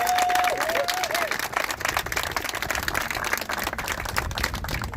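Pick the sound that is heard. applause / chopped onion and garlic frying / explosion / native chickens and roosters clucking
applause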